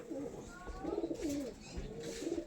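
A male and female pair of pigeons coo close by in soft, rolling phrases, one after another, with faint background rustle.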